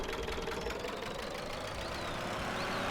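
A mower in Farming Simulator strains up steep hills, a steady labouring engine drone with a rough knocking edge running continuously and fairly loud, no voices over it.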